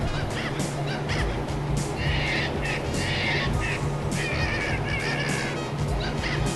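An Angry Birds Rio plush toy plays its built-in electronic bird squawks and chirps, a busy, continuous run of shrill calls at steady loudness throughout, close to the listener.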